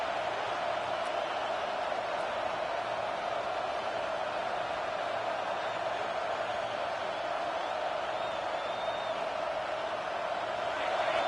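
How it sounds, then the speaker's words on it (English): Steady stadium crowd roar from a Madden 22 football video game during a third-down defensive stand, a continuous dense wash of noise at even loudness with no individual voices standing out. "Decibels rising as the crowd gets behind this defense on 3rd down"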